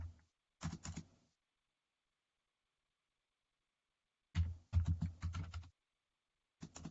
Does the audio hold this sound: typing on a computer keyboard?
yes